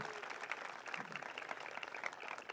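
Graduation audience clapping for the faculty, a steady faint patter of many hands spread through a large room, continuous and even with no voices standing out.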